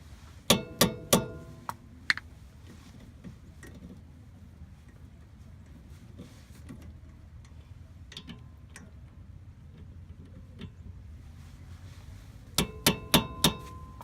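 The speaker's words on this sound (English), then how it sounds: "the way you would go about taking this off, these screws, is with an impact driver and a hammer" A hammer strikes an impact driver to loosen the brake rotor screws on an Acura RSX Type S, heard as two quick bursts of sharp metallic blows, several in a row at the start and again at the end, with faint ambient noise between.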